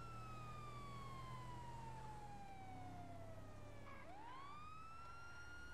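A police car siren in a video game wails continuously, its pitch sliding steadily downward before sweeping back up, loud and close with a low engine rumble underneath; no one speaks.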